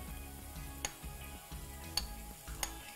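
Soft steady sizzling of vegetables and chopped onion frying in a hot pot, with occasional light clinks of a utensil stirring, close and fairly quiet.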